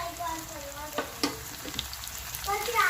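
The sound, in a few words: crushed tomatoes frying with ginger and garlic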